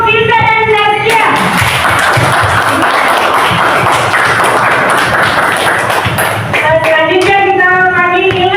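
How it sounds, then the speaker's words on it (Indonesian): Classroom applause for two students, a dense burst of clapping lasting several seconds between stretches of children's singing or chanting. "Tepuk tangan untuk Firza dan Zaskia."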